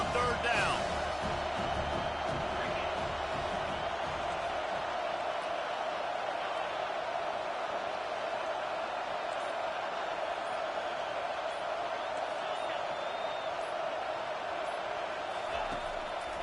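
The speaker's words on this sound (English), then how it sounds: "Decibels rising as the crowd gets behind this defense on third down." Football stadium crowd roaring steadily through a third-down defensive stand, a dense continuous wall of cheering that swells slightly, with a commentator's voice running over it.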